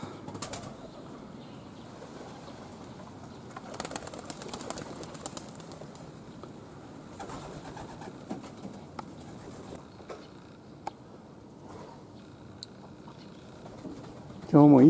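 Racing pigeons in a loft, with soft scattered cooing, shuffling and occasional wing flaps across a quiet, steady background, with a louder burst near the end.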